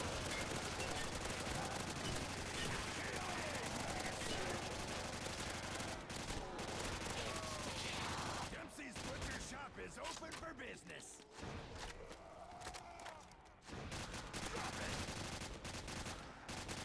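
Dense bursts of submachine gunfire from Call of Duty: World at War's Nazi Zombies co-op mode, loud and sustained at first, then broken into shorter volleys with thumps and game effects.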